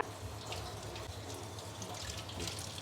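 Tap water runs steadily over fresh, cleaned pomfret fish in a kitchen sink, a constant soft splashing stream with a low hum beneath, no talking.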